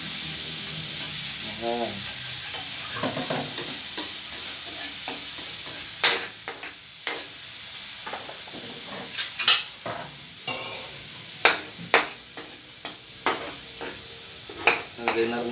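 Garlic, four cloves, sizzling in hot oil in a pan while being stirred, a steady frying hiss broken by sharp scraping and clinking strikes of a utensil against the pan; a brief voice speaks over it.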